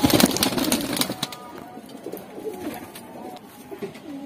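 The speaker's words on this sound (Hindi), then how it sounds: "देखिए दोस्तों ये खतंग कबूतर है ये हमारा जी" A khatang pigeon gives soft, low cooing close by, over a burst of handling noise and rustle at the start, then quieter coos with faint background sounds.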